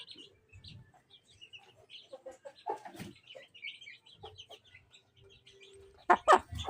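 A hen clucks softly and intermittently nearby, with faint chirps and rustling, ending in a louder burst of clucking.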